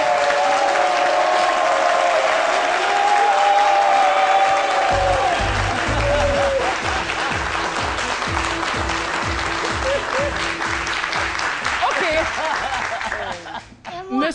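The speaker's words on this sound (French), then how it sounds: "Je vais vous demander donc de l'encourager et de l'applaudir très, très, très fort." Audience applause and cheering at a televised midday show for Pacôme Kipré, a loud sustained crowd wash with a steady rhythmic beat underneath and voices over it, fading near the end.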